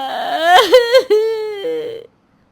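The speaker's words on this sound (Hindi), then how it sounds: "और जोर से रोने का टेप शुरू कर देती है।" A woman wails loudly in a theatrical, sobbing cry, a sustained wavering moan with breaks and pitch dips, close and alone, ending abruptly after about two seconds.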